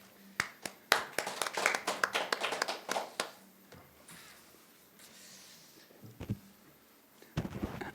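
Scattered clapping from a small audience at a Chungnam science and technology forum, irregular hand claps for about three seconds before fading into quiet room sounds and a few stray taps.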